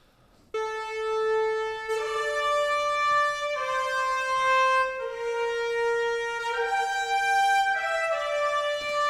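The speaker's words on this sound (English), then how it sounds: "at the same time, we've got the 90s retro trumpets" Retro 90s-style trumpets play a counter melody within an orchestral arrangement, sustained brassy notes stepping through a melodic line, steady and fairly loud with no voices.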